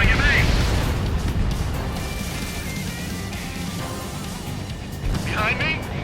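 Missile explosion in the jet combat game Ace Combat 7, a broad rumbling blast that stays loud and fades out slowly, with a crackling burst near the start and a radio voice cutting in at the end.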